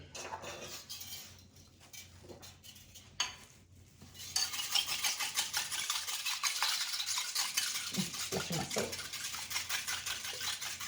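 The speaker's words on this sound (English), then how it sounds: "and then we have to beat the egg." An egg is beaten with a whisk in a bowl, giving a fast, continuous rattling clatter that starts after a few quieter seconds, with some speech beneath it.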